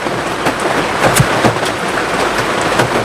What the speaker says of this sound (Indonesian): karena ini hujan